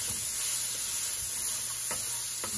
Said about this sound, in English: It's all fried up now.